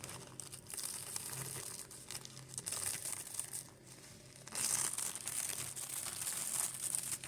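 Layers of a paper napkin are gently peeled apart by hand, giving close, quiet crinkling and soft tearing rustles that continue steadily, growing slightly louder toward the end.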